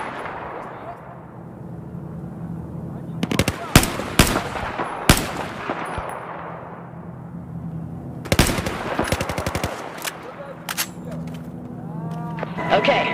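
In Battlefield 4, a machine gun fires loud, close bursts of rapid shots over a low rumbling engine-like drone, with a few single heavy impacts in between and a brief lull before the final volley.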